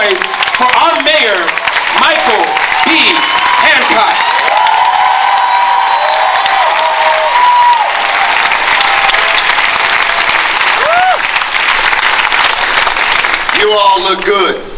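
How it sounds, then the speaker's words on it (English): Crowd at a Black Lives Matter protest applauding and cheering for the city's mayor, loud sustained clapping with whoops and shouts rising over it, near and continuous, with voices calling out at the start and end. "I would like you all to make some noise for our mayor, Michael B. Hancock"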